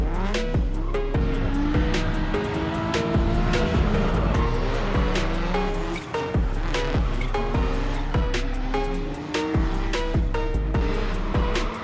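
Naturally aspirated race cars of the Asia Le Mans Series 2023 scream past one after another, loud high-revving engines with sharp gear changes, tire squeal and rapid up-and-down pitch sweeps across the whole stretch.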